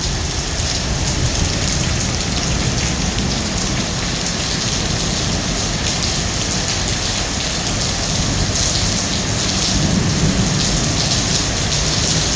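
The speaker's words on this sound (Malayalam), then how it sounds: "ഇടിയുടെ ശബ്ദം കൊണ്ട് തിരിച്ചറിയാൻ പറ്റാത്തൊരവസ്ഥയാണെന്ന് മാത്രം നല്ല മഴ പെയ്യുന്നുണ്ട്" Heavy rain pours steadily in the UAE, a dense, loud, unbroken wash of water on surfaces with thunder rumbling beneath it throughout, and no voices.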